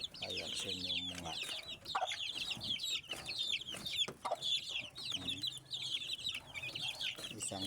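Month-old chicks and chickens cluck and peep steadily at close range during a daily feeding routine on a backyard poultry farm, with someone talking intermittently over the birds.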